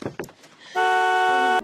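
A car horn blares in one sustained honk lasting almost a second, preceded by a few brief mechanical clicks.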